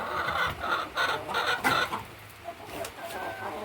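Hens on a small farm cluck and squawk in quick, agitated bursts while being caught and loaded into transport crates, several birds close by with a busy, restless rhythm.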